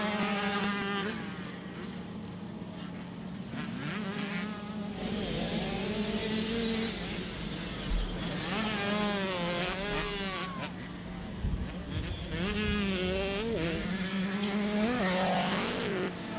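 Small-wheel motorcycles in a desert race prologue scream up through the gears, their rising, whining engine notes overlapping as the bikes accelerate past one after another.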